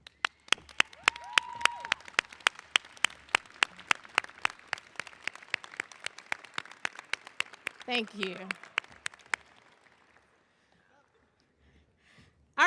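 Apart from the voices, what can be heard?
audience applause for graduates' supporters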